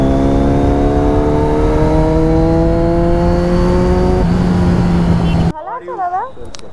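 A motorbike engine cruising on a highway drones loudly with steady, slowly rising harmonic tones for about five seconds, then cuts off abruptly to quieter wind noise with a voice talking near the end.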